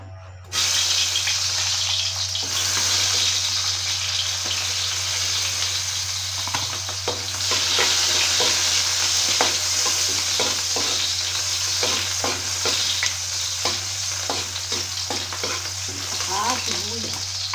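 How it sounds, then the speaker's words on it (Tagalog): Garlic, onion and tomatoes sauté in a pan for sinigang of pork ribs, a continuous loud sizzle with scraping stirs and clinks throughout, close and without talk. "Gisa lang tayo ng bawang sibuyas"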